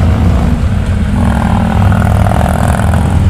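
Motorcycles pass along the NH-44 four-lane highway near a bridge at Mehar, Ramban, giving a steady, loud engine drone with revving and some clatter throughout.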